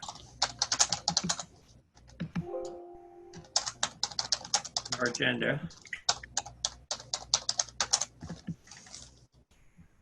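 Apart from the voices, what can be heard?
loud typing on a computer keyboard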